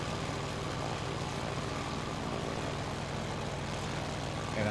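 Steady, droning airplane engine in a flight video game, holding an even level without change for a few seconds; no voices.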